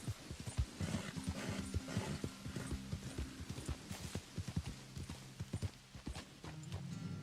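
Horse hooves clip-clop steadily while riding in the video game Red Dead Redemption, a quick rhythmic gallop that stays close and clear, with low musical tones running underneath.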